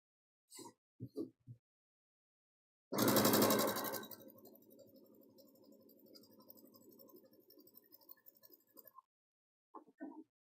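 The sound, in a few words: sewing machine sewing a table runner seam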